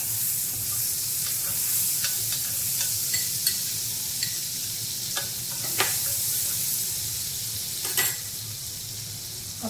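Butter sizzles on a hot tava being readied for sandwiches, a steady close hiss broken by scattered small pops and crackles throughout.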